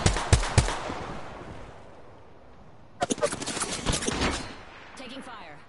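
Bursts of video game gunfire, a few sharp shots at the start and then a rapid volley around the middle, fairly close and fading into quieter game sounds.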